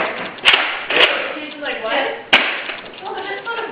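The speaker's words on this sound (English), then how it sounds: "I'm just going to compare it firing to a stock LongShot, firing 2 rounds out of the stock LongShot" A stock Nerf LongShot foam-dart blaster fires several sharp, snapping thumps, spaced irregularly over a steady background hiss.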